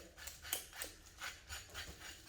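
A knife scrapes scales off a butterfish in quick, rhythmic rasping strokes, about six faint close-up scrapes repeated at a steady pace.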